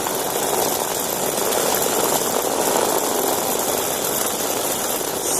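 Hexbug vibrating robot toys race across plastic battle arena ramps, giving a steady, dense buzzing whir that holds at an even level from start to finish, with no voices.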